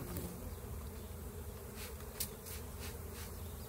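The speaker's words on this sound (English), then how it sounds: "every time I spray onto this thing, a bee lands on it" Honeybees buzz steadily around open hives while honey is being extracted, a faint, continuous insect drone with a few brief louder passes close by.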